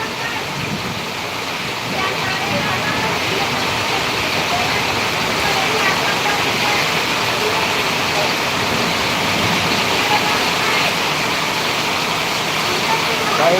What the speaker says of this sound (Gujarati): અમારે તો જબરજસ્ત વરસાદ ચાલુ થઈ ગયો છે